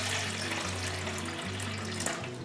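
Water pours steadily from a tap or jug into a cup for a drink mixed with apple cider vinegar, a close continuous splashing stream that holds even throughout with no talk.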